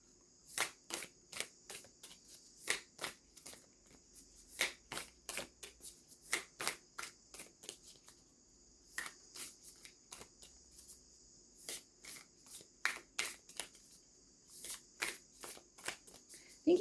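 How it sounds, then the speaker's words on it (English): Oracle cards from a Golden Keys of Gaia deck being shuffled, with repeated soft riffling bursts in irregular clusters that come close and fairly quiet, with brief pauses between runs and no talking. "I am going to pull a card, an oracle card from the Golden Keys of Gaia."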